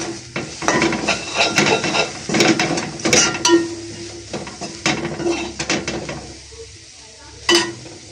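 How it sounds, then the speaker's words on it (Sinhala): Chili flakes stirred and fried in a pan with squid for a weight-loss dish, giving a steady sizzle broken by repeated scraping and clinking of a utensil against the pan, close up, with no talk. "මිරිස් කුළු චුට්ටක් මේකේ අන්න දුඹුරු පාට වගේ වෙන්න මේක එක්කම ඔකට එකට කලවම් කරගන්න"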